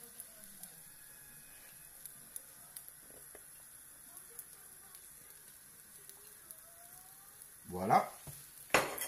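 Slices of smoked duck breast sizzle faintly in a frying pan under a low, steady hiss, with light clicks scattered throughout. A louder sizzling burst comes near the end.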